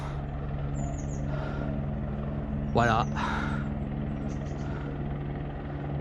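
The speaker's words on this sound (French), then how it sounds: "il y a un gros hélicoptère qui tourne là" A large helicopter circles over a rural area in the Jura, a low steady rotor drone sitting under the outdoor background, with brief speech partway through.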